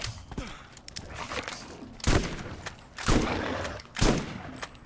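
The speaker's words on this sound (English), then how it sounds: "Trying that shotgun we got from TK Baja." A shotgun fires in the Borderlands video game, three heavy blasts spaced about a second apart, loud and close, over busy game ambience.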